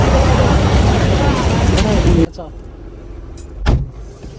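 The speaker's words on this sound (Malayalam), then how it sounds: "ഞങ്ങൾ വണ്ടി എടുത്തു ഇനി തിരിച്ചു വീട്ടിൽ പോവാണ്ടോ" A car pulling away for the drive home, loud broadband engine and road rumble from inside the cabin that cuts off abruptly partway, followed by quieter interior noise with a brief thump and swell.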